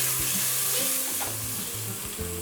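Onions sweating in a pot for a Trini cassava oil down with pig tails, giving a loud, even, continuous sizzle close up with faint low bubbling underneath and no voices.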